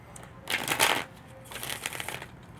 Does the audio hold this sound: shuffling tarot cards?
yes